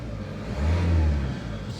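A 1.6 TDCi diesel car engine idles steadily nearby, a low even rumble with a slight rise and fall in the middle, no voices.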